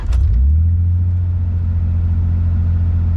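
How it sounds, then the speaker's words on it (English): Drift car engine revs sharply as the throttle is punched, a quick loud burst settling into a steady low, heavy rumble close by. "When I punch the gas,"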